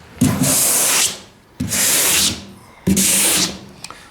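Three long, steady strokes of block sanding primer on a 1973 Cutlass trunk lid, a rough rasping scrub repeated at an even pace with short pauses between.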